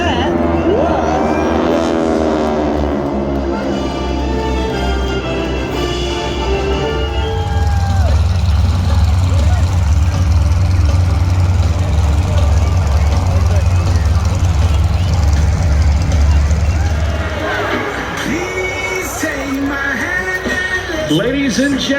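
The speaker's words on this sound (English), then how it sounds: "3 600 horsepower World War II airplanes from the left, 2 more from the right." Several 600-horsepower World War II airplanes roar past at an air show over Greenwood Lake, New Jersey. The low engine drone swells to a loud, sustained pass and then fades, with an announcer talking over it.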